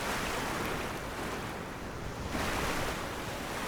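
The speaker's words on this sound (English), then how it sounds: "look at me crashing the waves" A sailboat plows through rough ocean waves in high winds off Hawaii, a continuous loud wash of surf and wind buffeting that swells and eases slightly, with no voices.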